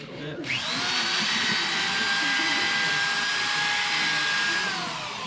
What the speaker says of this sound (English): Just drill them out, especially in the corners